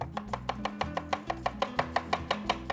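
A knife finely chopping onion on a cutting board, quick evenly spaced taps at roughly six per second, crisp and close with no speech.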